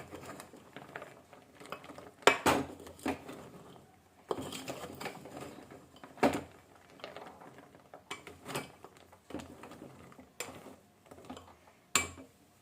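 Jaggery-coated gavvalu sweets stirred in a pan: scattered clattering scrapes and rattles of the fried shells knocking against metal, in uneven bursts, close and fairly quiet.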